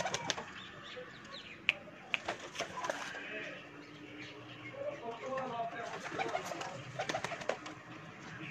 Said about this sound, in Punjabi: ਮਾਸ਼ਾਅੱਲਾ, ਬਹੁਤ ਹੀ ਜਨਾਬ ਪਿਆਰਾ ਕਬੂਤਰ ਹੈ ਆਊਟ ਕਲਾਸ ਜਨਾਬ